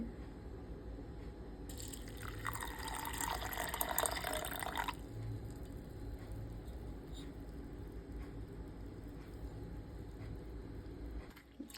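Water splashes and swishes for a few seconds as lentils are rinsed in drinking water, then fades to a low, steady background hum.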